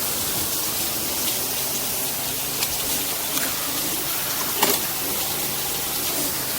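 A garden hose sprays water across a soaped pool mat laid on a cement slab beside a pool, a steady close rushing gush with small splashy variations throughout.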